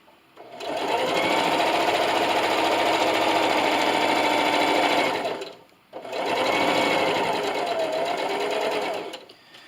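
A sewing machine stitches a seam line on a trifold notebook and pencil case project, running steadily in two sustained bursts separated by a brief pause, close and clear.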